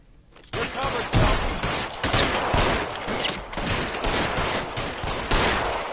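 Gunfire in the video game L.A. Noire: dense, loud volleys of shots crack in rapid succession for several seconds, forming a near, continuous fusillade.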